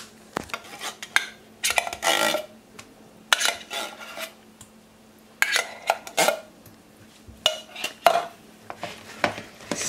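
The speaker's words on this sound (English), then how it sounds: "Stir it around to loosen it up." A spoon stirs cherry filling in a bowl, giving repeated scraping and clinking strokes in short bursts with pauses between them, close and fairly quiet.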